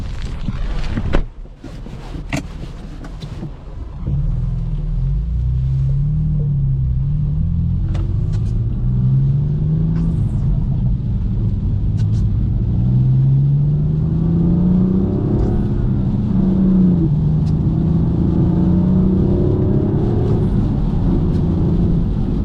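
A manual BMW M4 Competition F82 drives through a rainstorm, its engine a deep, steady rumble that rises and falls through gear changes, heard from inside the cabin with rain noise underneath.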